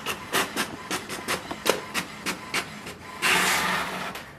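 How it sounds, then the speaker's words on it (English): An HP Smart Tank 7300 inkjet printer prints an information page: a rapid series of regular mechanical clicks and carriage strokes, then a louder sustained whir of paper feeding near the end, close-up with no speech. "So it has sent a command to print a printer information page."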